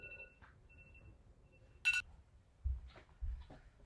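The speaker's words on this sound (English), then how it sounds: "that was my soup timer going off to alert me to put in the vegetables into the soup" A kitchen soup timer goes off with a short, bright electronic beep burst, followed by a few faint softer blips and low thumps in a quiet room.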